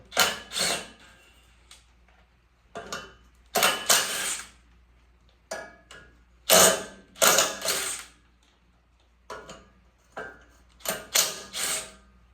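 A ratchet turns a 1/2 inch bolt to remove the radiator fan on a Super 66 tractor, giving bursts of rapid clicking strokes in uneven groups with quiet pauses between them, close and with no talk.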